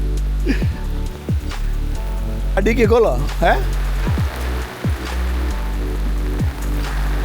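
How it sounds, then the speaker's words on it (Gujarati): Steady rain, following hail, patters in the background at a village in Dang district, Gujarat, while people talk over it, the hiss continuous throughout. "સાલો વરસાદ છે"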